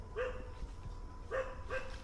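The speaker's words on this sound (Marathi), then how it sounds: "कुत्रा भूकूच लागला" A dog barking in a rural village: three sharp barks, one alone and then a quick pair, moderately distant and fairly quiet against a calm background.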